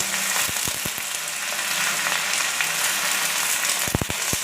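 Pumpkin leaves and drumstick leaves fry in a hot pan for Odia saga bhaja, a loud, continuous sizzle with a few sharp crackles and stirring clinks near the start and end.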